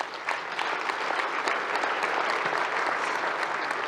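An audience claps loudly during the Chicago mayor's budget speech, a dense, continuous wash of applause that holds steady throughout with no voices over it.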